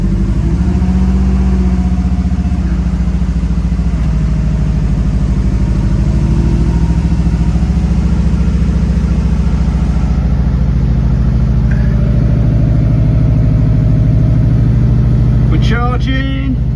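An old engine runs steadily and loud throughout in cold conditions, a continuous droning hum with a slight struggle early on, while voices talk over it.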